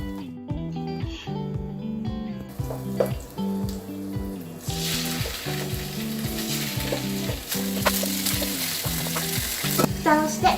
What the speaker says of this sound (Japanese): そして塩コショウしたスペアリブを入れます。